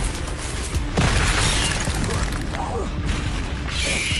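Repeated Confringo spell blasts from Hogwarts Legacy crash and boom in dense, continuous succession, with sharp impacts and rumbling debris layered over one another at steady loudness.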